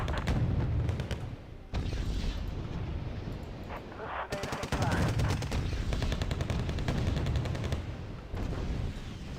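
Gunfire and artillery in the Wargame Red Dragon strategy video game: dense, continuous volleys of rapid shots and booming blasts, loud and layered, with brief dips before the barrage resumes.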